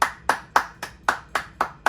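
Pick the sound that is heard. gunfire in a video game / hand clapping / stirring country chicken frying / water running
hand clapping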